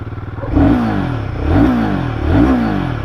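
A 2024 Royal Enfield Guerrilla 450 motorcycle, 450 cc single-cylinder with ride-by-wire throttle, starts up loud and close and settles into a thumping idle with three rising revs.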